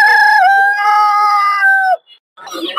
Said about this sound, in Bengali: আপনারা দেখতে পাচ্ছেন অনেক বড় বড় মোরগ